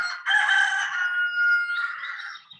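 A single rooster crows once, a long and slightly distant cock-a-doodle-doo that trails off.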